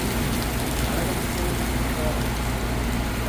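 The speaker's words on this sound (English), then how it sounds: "Raindrops are dropping on my head." Steady heavy rain pours down during a thunderstorm on a city street in New York's Chinatown, a dense continuous hiss that fills the whole clip with a low rumble beneath it.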